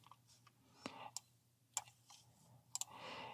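A computer mouse clicks several times in quick irregular succession, faint and close, in a quiet room with no speech.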